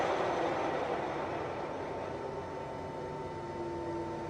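A Summit gap bed engine lathe runs at 543 RPM, giving a steady mechanical whir and broadband hum with a faint high tonal whine, constant and close with no talking.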